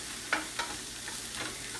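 Onion frying in a pan for cabbage pirozhki filling, a soft steady sizzle with a few brief stirring scrapes, close by and with no voices.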